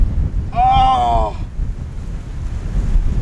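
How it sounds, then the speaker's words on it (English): A strong gust sweeps across an outdoor golf course, buffeting the microphone with a steady low roar throughout; a brief high, tonal cry rises over it early on. "that's just had the biggest gust ever"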